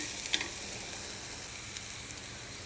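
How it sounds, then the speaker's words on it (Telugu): Ginger garlic paste and green chili paste fry in a pan, a soft continuous sizzle with a faint click near the start, heard alone at close range. "అల్లం ఎల్లిగడ్డ పేస్ట్ పచ్చిమిరపకాయల పేస్ట్ ఇవన్నీ మంచిగా వేగిపోయినాయి చూడండి"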